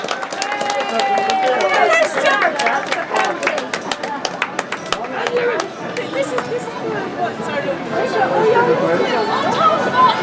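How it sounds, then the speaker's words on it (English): A festival crowd at the Wren Boys Festival in Listowel, County Kerry applauds the Monaster Wren Boys, a dense, loud patter of claps mixed with crowd chatter and voices. "Give them a big round of applause, ladies and gentlemen"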